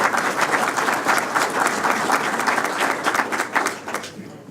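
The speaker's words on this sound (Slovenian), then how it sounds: "Še enkrat en aplavz, Miro." Crowd applause for Dr. Miro Cerar at the AGRA 2014 fair awards ceremony, a dense, steady round of many clapping hands at close range, holding full for about four seconds before tapering off at the end.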